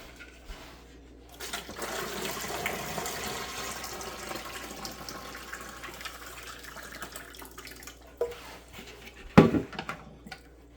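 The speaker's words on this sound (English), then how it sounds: "So now we're going to put our hot tap water in here as well to kickstart this thing." Hot tap water runs into a pressure canner during home canning, a steady gushing pour that builds after a quiet start, then thins out before a sharp clunk near the end.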